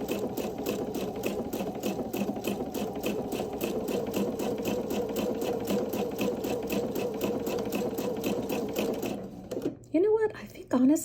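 A sewing machine stitches a coiled rope bowl in a fast, even run of needle strokes, steady and close. It halts toward the end, where a person starts talking.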